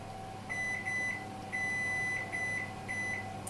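A Capella BOC 625 combi oven gives a series of short electronic beeps from its control panel as buttons are pressed, clear repeated tones over a faint steady hum.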